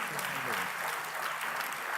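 A church congregation claps together during a sermon, a steady wash of applause with a voice faintly mixed in underneath.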